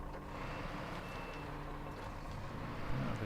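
A big, loud truck in the off-road driving game Snowrunner, set in North Carolina, its engine droning steadily at a moderate level, with a faint whine over the low rumble and no talk.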